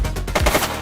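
Rapid bursts of gunfire from the police video game The Precinct, loud and close, rattling through a brief, dense exchange of shots.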